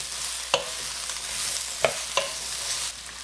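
Chicken frying and being stirred in a pan for cashew chicken: a steady hiss of sizzling oil broken by three sharp utensil scrapes and clicks, close up and with no talking.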